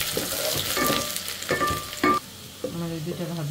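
Chopped garlic and ginger fry with dried chillies in hot oil, producing a close sizzle broken by stirring scrapes and clinks, easing off toward the end.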